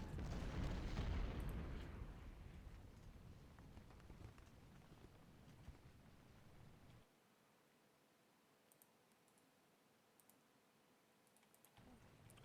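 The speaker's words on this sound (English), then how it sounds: "they're still shooting me" Artillery and gunfire in the Ultimate General: Civil War video game: a heavy, distant rumbling volley that fades over several seconds, followed by near-quiet with faint scattered clicks.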